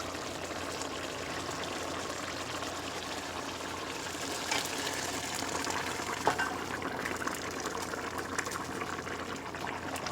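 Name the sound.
pouring boiling liquid into a pot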